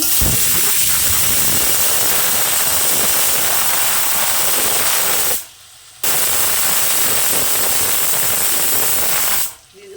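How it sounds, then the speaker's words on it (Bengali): Ginger-garlic spice paste sautés in a hot pan with a loud, continuous sizzling hiss, broken by two brief quieter dips. "আবার আমি হালকা করে একটু কষে নেবো আদা রসুনের কাঁচা গন্ধটা যতক্ষণ যায় ততক্ষণ"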